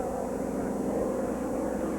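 Boeing Stearman biplane at the Heart of Florida Airshow, a steady propeller-engine drone held at moderate distance, even and unbroken throughout.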